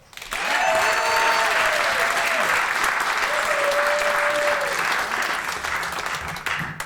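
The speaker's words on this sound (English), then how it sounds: "I don't do this for the applause." Applause from the audience at The Liar Show, a storytelling show in New York City, swells quickly after a quiet start and holds full and steady, a dense crowd of clapping hands with faint whistles inside.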